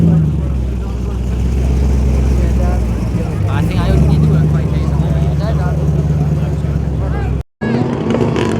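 A V8-engined Triumph TR7 at Pembrey Circuit gives a loud, rumbling engine note that rises and falls as it passes close by, with a crowd's chatter around it and a brief cut near the end.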